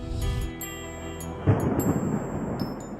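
A dramatic thunderstorm strong enough to set off a landslide rumbles deep and loud, with a heavy thunder crack near the midpoint and rain hissing beneath, all for about three seconds.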